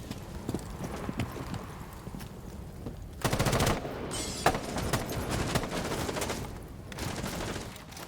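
Gunfire shot through a wall in Rainbow Six Siege comes in dense, loud rapid bursts after a quieter stretch of clattering game noise, fairly close and unbroken by talk.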